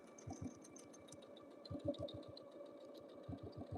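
Domestic sewing machine stitching through a quilt's seam allowance, heard as bursts of rapid, steady mechanical clatter with short pauses between runs, close and moderately loud with no talk.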